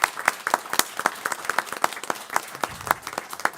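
A small audience at a school board meeting claps for four board members, a thin scattering of individual hand claps with an uneven rhythm, fairly close and moderately loud.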